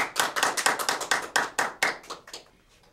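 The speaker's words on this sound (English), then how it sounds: "Please give her a big round of applause." An audience at a live variety show applauds a performer billed as a rubber girl. The clapping is brisk and steady for about two seconds, then thins out and fades, and it sounds fairly close.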